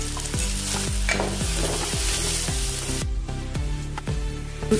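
Asafoetida and onion sizzle in hot oil with a loud, continuous, close frying hiss that holds steady throughout.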